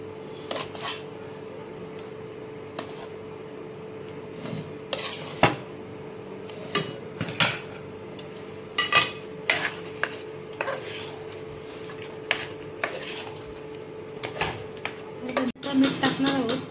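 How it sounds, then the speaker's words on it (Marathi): A utensil stirs and mixes mashed vegetable bhaji in a pan, giving irregular scraping and clinking knocks against the metal over a steady low hum, with talking between the strokes. "आता भाजी याला एकजीव करून घेऊया"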